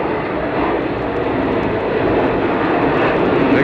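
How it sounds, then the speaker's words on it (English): A big jet airliner roars overhead near a baseball stadium during a Reds–Mets game, making a loud, steady, broadband roar that fills the whole stretch without a break. "Big jet airliner roaring overhead."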